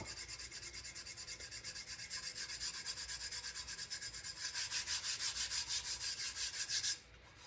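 Glitter being smoothed down by hand on a tumbler cup, a soft rhythmic rubbing with regular back-and-forth strokes, close and quiet, growing slightly stronger before stopping abruptly near the end.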